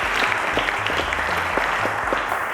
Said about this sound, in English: A round of applause to Wisdom, ladies and gentlemen.